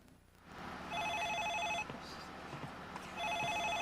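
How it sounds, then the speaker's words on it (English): A cell phone rings with a bright, repeating electronic trill in two bursts separated by a short pause, fairly close and clear over a faint background hum. "It's my cell phone."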